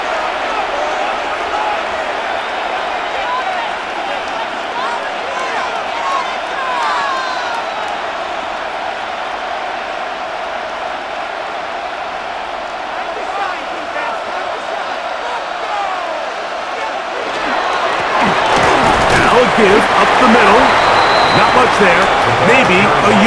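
A stadium crowd in Madden NFL 26 roars through a Patriots–Falcons Super Bowl simulation, a steady wash of noise that swells louder near the end, with a commentator talking over it.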